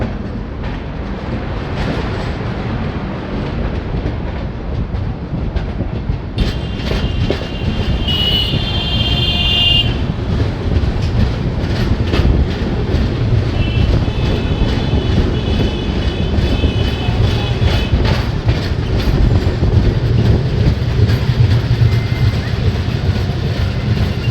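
A Howrah–Agra Cantt train pulls out of Banda station, its heavy rolling rumble continuous and close, with metallic wheel squeals rising briefly partway through and the rhythmic clatter of cars throughout.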